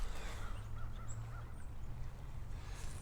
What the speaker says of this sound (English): There's these ducks.